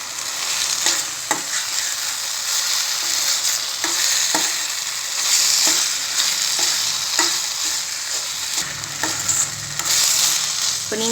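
Varagu rice is stirred into a sautéed pepper mixture in a pan, with a steady sizzle of frying under repeated scraping stirs of a spoon against the pan, close and fairly loud with no talking.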